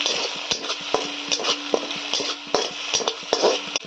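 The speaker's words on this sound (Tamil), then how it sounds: "இப்போ இந்த முட்டையை நல்லா ஃப்ரை பண்ணிக்கலாம்" Egg frying on low flame for egg fried rice, a soft steady sizzle broken by repeated sharp taps and scrapes of a spatula against the pan.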